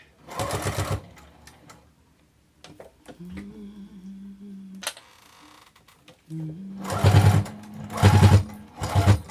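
A sewing machine stitches a zipper pouch in several loud, steady bursts of motor whir with pauses between, and a softer slow run in the middle; someone speaks briefly at the start.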